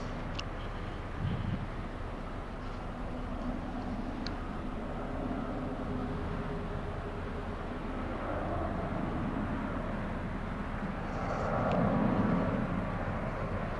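A Boeing 737-700 departing an airport, heard from a distance near trees, as a faint, steady jet roar that swells slightly toward the end, with no voices.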